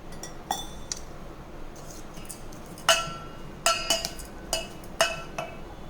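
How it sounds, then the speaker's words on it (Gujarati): A spoon clinks against a bowl while methi gota batter of gram flour, fenugreek, sugar, lemon juice, oil and baking soda is mixed with water, with sharp irregular taps that grow louder and more frequent toward the end. "હવે આપણે પાણી નાખીને તેનું ખીરું બનાવશું."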